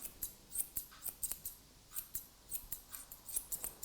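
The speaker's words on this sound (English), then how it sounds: "Comb down and just cut straight across." Grooming scissors snip a Lhasa Apso's coat in a competition trim: a steady run of quick, crisp close-up snips, roughly several per second, faint and regular with no talking.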